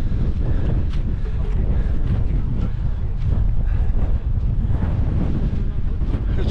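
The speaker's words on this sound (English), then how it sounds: "It's very windy." Strong wind buffets the microphone on a winter hike at Echo Crags in the Cheviot Hills, in a steady, rumbling roar with gusty swells and no clear voices.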